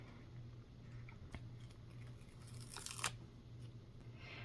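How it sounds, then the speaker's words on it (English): A planner sticker peeled from its backing sheet and pressed down onto a page, soft close crinkles and a brief crisp tearing burst, quiet against a faint background hum. "I think I'm going to lay this sticker down."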